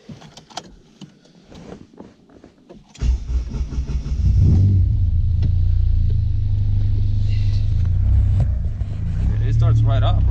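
A car with a K24 engine cranks over and catches after a few seconds, then settles into a steady, loud low idle; brief speech and clatter come before the start.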